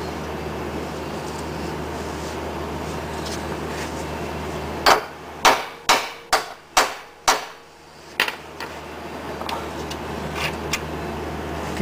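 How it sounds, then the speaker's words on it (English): Seven sharp metallic hammer strikes ring out in a quick, even series, close by, driving a pinch bolt out of a Ford Escort ball joint, followed by a few lighter taps and clinks. "take the nut off so you can hammer the pinch bolt all the way out"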